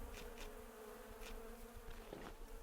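Insects whine and drone close by in a desert camp, a faint buzz that comes and goes in short passes, with a brief rustle near the end.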